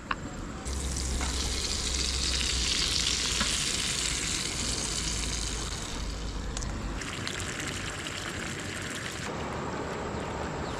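Sardines frying in a pan at a fishing camp, a steady loud sizzle and crackle that fills the whole stretch with little change, with no talking.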